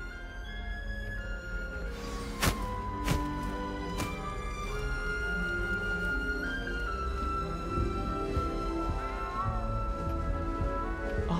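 A small cat in the video game Hogwarts Legacy meows repeatedly over a steady bed of game music and ambience, with a few sharp higher accents punctuating the cries.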